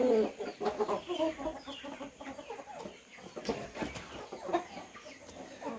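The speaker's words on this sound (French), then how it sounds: "Là j'ai juste mis quelques poulets." Chickens cluck busily on a poultry farm that keeps purebred Brahma birds, a close, continuous chorus of overlapping clucks and squawks.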